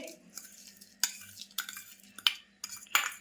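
A spoon scrapes and clinks against a metal pot in rhythmic strokes while jaggery is stirred into milk, with several sharp knocks and a soft simmering hiss, and no talk.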